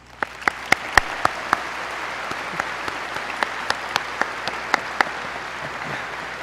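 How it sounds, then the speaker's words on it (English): Applause at a 2021 Dodge City Public Schools high school graduation ceremony, a steady wash of crowd clapping with a few sharp louder claps standing out, moderately distant and sustained throughout. "give them a round of applause."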